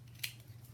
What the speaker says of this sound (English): And then I'm gonna cut the size.